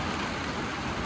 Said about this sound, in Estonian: Ma ei tea, kas meil selle vihmasabina postel üldse kuulda on